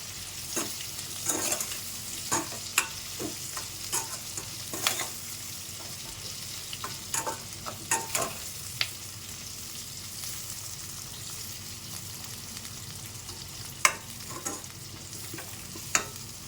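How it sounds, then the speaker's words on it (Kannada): Fried potatoes are stirred into a pan for a quick potato rice dish, the spatula scraping and clicking in irregular strokes over a soft, continuous sizzle, with no talking. "ಫ್ರೈ ಮಾಡಿಟ್ಕೊಂಡಿರೋ ಆಲೂಗಡ್ಡೆ ಹಾಕೋಣ. ಮಿಕ್ಸ್ ಮಾಡಿ ಚೆನ್ನಾಗಿ."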